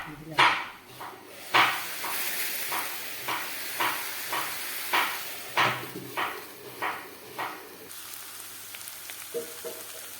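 Onions sautéing in a pan, a soft frying hiss broken by a regular series of scraping stirs, about a dozen strokes at a steady pace, close and moderately loud.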